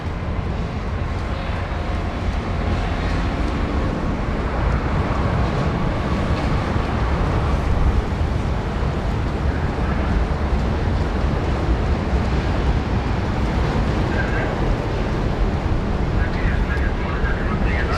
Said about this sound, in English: Some beautiful sound is expected there from the China Eastern A330 200.